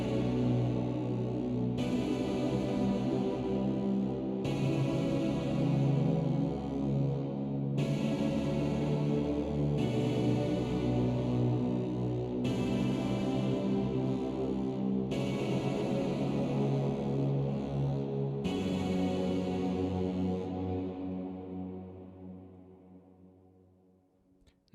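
Thick, heavily distorted bass guitar chords through fuzz and distortion pedals in a post-metal rig ring out loud and sustained, changing every couple of seconds, then the final chord fades to silence.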